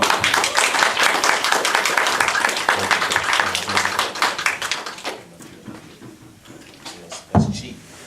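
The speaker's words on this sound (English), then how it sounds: "can everyone join me in giving Alfonso another round of applause?" Audience applause at a film festival screening, dense clapping for about five seconds that thins out, followed by a few scattered claps and a louder knock near the end.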